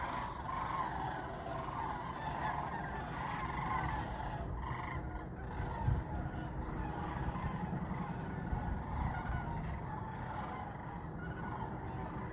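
A dense, steady chorus of honking Canada geese continues throughout, loud and close, blending into a noisy outdoor background on a trail at Red Top Mountain State Park, Georgia.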